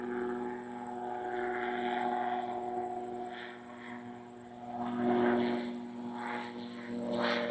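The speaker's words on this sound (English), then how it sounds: "there's a little microlight helicopter coming in." A microlight helicopter drones overhead with a steady buzzing hum that swells and eases slightly as it passes.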